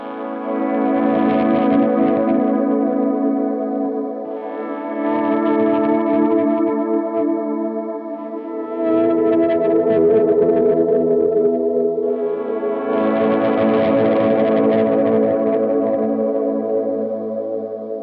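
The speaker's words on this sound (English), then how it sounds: "I can kick on the overdrive and a boost for some color, and then the vibrato pedal to add some modulation" Electric guitar played as slow volume swells through overdrive, boost and vibrato pedals, four long sustained chords rising and fading with wavering modulation, loud and steady with no talking.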